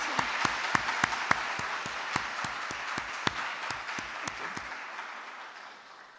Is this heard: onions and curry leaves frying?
no